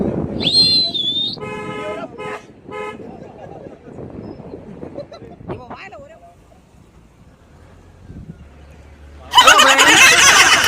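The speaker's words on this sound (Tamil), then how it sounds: "நீங்கள் விசில் அடிச்சுட்டே" A whistle blown during a road trip through Valparai tea estates, shrill bursts near the start amid people talking, with a loud noisy rush of sound near the end.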